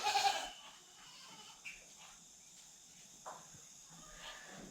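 A loud goat bleat opens, followed by a few fainter bleats and calls scattered across a quiet farmyard.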